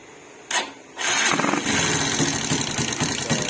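A Raider J115Fi motorcycle fitted with a 32mm throttle body turns over with a short crank burst, then catches and settles into a loud, close, steady idle with a slightly uneven buzzing pulse.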